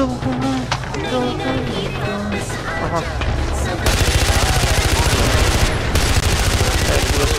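Rapid bursts of automatic gunfire in Far Cry 4, loud and continuous, mixed with music and other action sounds.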